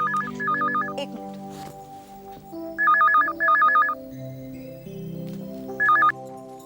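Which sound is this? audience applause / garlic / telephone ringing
telephone ringing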